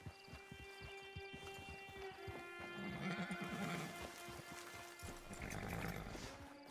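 Horse hooves clip-clop at a steady rhythm while riding in Red Dead Redemption 2, with a sustained music drone and tonal game ambience underneath and occasional louder rustling bursts.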